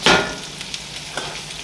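Chorizo, yellow squash and yellow onion fry in a pan with a loud opening crackle that settles into a steady, close sizzle with small pops.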